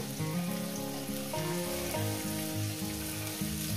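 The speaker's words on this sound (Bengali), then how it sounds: "রসুনগুলো আমি দিয়ে একটু ভেজে নেব" Garlic fries with mustard greens in a pan, giving a steady, soft sizzling hiss that runs continuously under background music.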